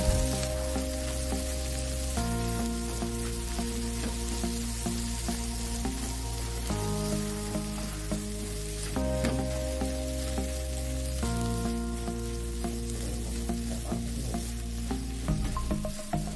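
Chilies, tomatoes and bay leaves sauté in a hot pan in a school canteen kitchen, a steady close sizzle throughout with faint stirring and background music, no talking.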